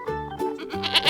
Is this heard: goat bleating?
yes